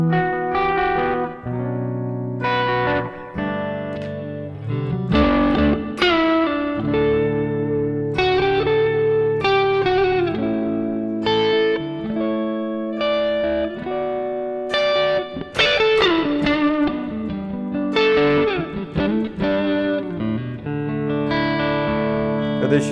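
Electric guitar played through a Fly Rig pedal set to a long, loud reverb, chords and single notes ringing out into a wide wash of ambience that sustains between phrases for over twenty seconds.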